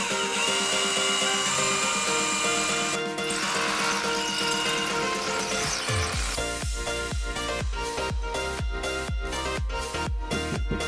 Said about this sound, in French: je vais juste percer un tout petit peu plus haut et je vais taper directement dans la brique